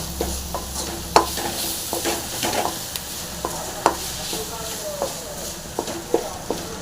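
Mudavattu kizhangu root frying in a pan, with a steady sizzle under irregular spoon scrapes and taps, close and moderately loud, while a voice speaks in the background.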